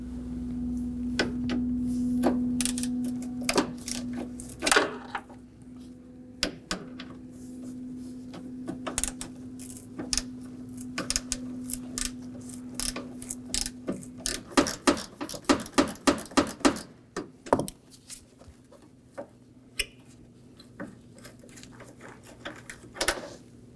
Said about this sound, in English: Now we could go ahead and remove the 7mm bolt on the corner.